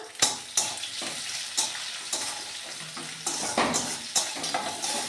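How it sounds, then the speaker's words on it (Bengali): Chopped onion and marinated chicken fry in hot oil with a continuous sizzle, broken by repeated stirring scrapes and clinks from a utensil against the pan at an uneven rhythm. "এবারে পেঁয়াজটাও ছেড়ে দিচ্ছি। তেল গরম হয়ে গেছে।"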